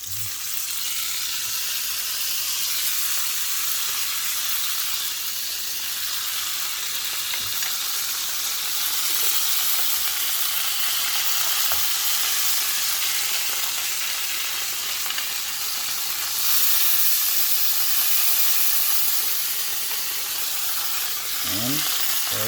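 Butter sizzling and frying in a pan for a pork sandwich, a steady close hiss running throughout with faint clicks of stirring.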